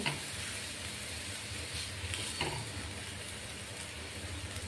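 Cheese paratha made from wheat flour cooks in butter or ghee on a hot pan, giving a steady, close, broadband sizzle that holds throughout with a few faint clicks of the pan; no one speaks.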